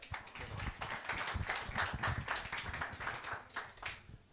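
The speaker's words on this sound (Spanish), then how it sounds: "Un fuerte aplauso para él." A small crowd applauding, scattered claps blending into a moderate, uneven patter for a few seconds.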